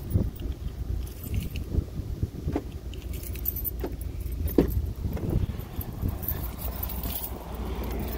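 Keys jangle close by while a 2017 Chevy Silverado truck with dual exhaust is unlocked outdoors, a few light metallic clinks and taps over low, steady background rumble, with no voices.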